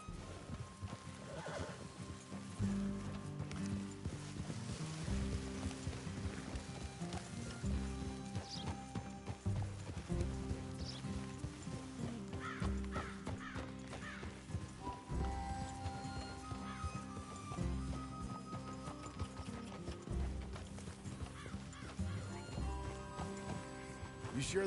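Horses in Red Dead Redemption 2 clip-clop steadily with occasional whinnies, their hooves a continuous rhythmic patter at mid distance under an ongoing game soundscape, with characters talking over them.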